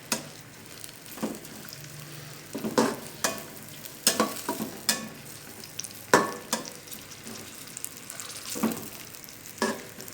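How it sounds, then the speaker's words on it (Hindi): Carrots fry in hot oil for chicken fried rice, a continuous sizzle broken by repeated scraping stirs and clanks of the utensil against the pan, close and fairly loud. "सबसे पहले हम कैरेट डाल देते हैं, क्योंकि ये ज़रा हार्ड होती है तो इसको थोड़ा ज़्यादा फ्राई करेंगे।"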